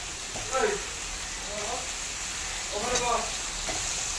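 Half-boiled potatoes fry in oil cooked down with spices, giving a continuous close sizzling hiss with a couple of brief swells of stirring.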